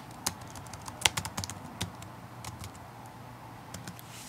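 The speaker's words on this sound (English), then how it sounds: "go to the spotlight and type terminal" Terminal commands being typed on a Mac computer keyboard: a short, faint run of key taps clustered early, then a few sparse clicks over quiet background.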